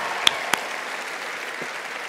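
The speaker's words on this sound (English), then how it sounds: "Give yourselves a round of applause." Audience applause in the Sydney Opera House at a 2013 event with George R.R. Martin, Lena Headey and Michelle Fairley: a sustained wash of clapping from a large crowd, with a couple of louder nearby claps standing out.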